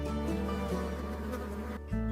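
Bees buzz around strawberry flowers in a farm field, a close, continuous droning hum that shifts slightly in pitch as the insects move.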